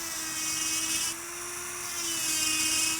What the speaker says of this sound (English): drill out your smile line using the pencil drill bit